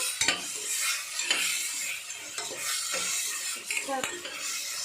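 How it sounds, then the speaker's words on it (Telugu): Chopped tomatoes dropped into a pan over ginger-garlic paste, sizzling steadily as a utensil clinks and scrapes the metal several times, close by with no talking. "కట్ చేసి పెట్టుకున్న టమాటాస్ వేసుకున్నాను. కొంచెం అలా వేగుతుంటాము"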